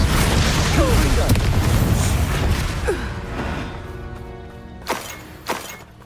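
A Confringo blasting spell explodes in Hogwarts Legacy, a dense, loud, broadband blast with rumbling debris that gradually fades, followed by two short sharp pops near the end.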